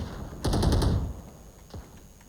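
Rapid burst of about five close, loud shots from a Sheriff pistol in a first-person shooter game, followed by quieter game ambience and a faint later thump.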